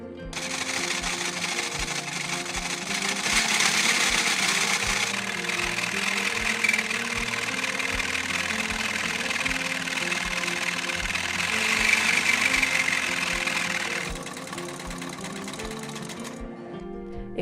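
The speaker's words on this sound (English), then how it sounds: "A bit more sewing machine oil here and there. Let's try again." An old, rusty sewing machine that had gone decades without oil runs and sews with a fast, steady mechanical clatter. Its loudness swells and eases as it keeps going nearby without talk.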